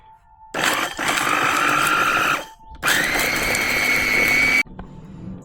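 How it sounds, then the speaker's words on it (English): A stone grinding machine grinds cacao in two loud steady bursts with a brief pause between, a rising whining hum over a rough grinding texture, close by with no talk. "A stone grinding machine is typically used to grind the cacao."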